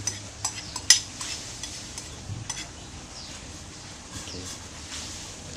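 A spoon stirs a pot of Thai sour bamboo shoot curry: faint scraping and clinks, with a few sharper taps early on over a soft, steady bubbling background.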